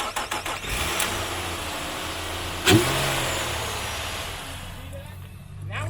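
A Nissan Pathfinder engine cranks and catches, then revs once in a sharp, loud burst of throttle before settling to a steady idle, with voices talking around it.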